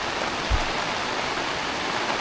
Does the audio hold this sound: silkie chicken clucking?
no